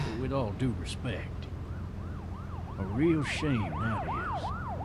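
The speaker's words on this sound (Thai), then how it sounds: "โอ้รถตำรวจผ่านไป" A police car siren in The Walking Dead video game wails in rising and falling sweeps as it passes, growing louder then holding steady over a rumbling background with brief voice fragments early on.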